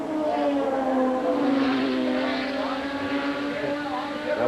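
1987 IMSA GTP race car driving past on the Lime Rock track, a sustained engine drone with a rising and falling pitch, moderately distant, under a commentator's voice.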